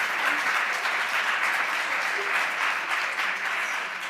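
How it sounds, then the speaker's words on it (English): An audience at a closing panel session breaks into steady, even applause that carries on at the same strength throughout. "every question is then ended with applause"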